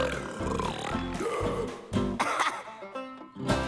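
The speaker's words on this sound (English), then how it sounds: "Hey, you burped!" Cartoon character burping in an animated show, a few loud guttural belches and grunts in close succession, with music and other voices faintly around them.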